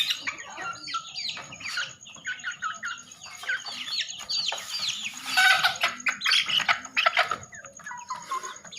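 Silkie chickens squawk and cluck in a busy, continuous flurry of overlapping calls close by, with no talking over them.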